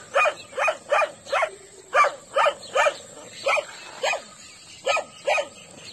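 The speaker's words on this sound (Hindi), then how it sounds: "कुत्ता तो भौंक रहा है, वो तो नीचे से भौंक रहा है।" A dog barks repeatedly at a steady pace from below in an Uttarakhand mountain village, about a dozen sharp woofs with brief gaps, sounding somewhat distant.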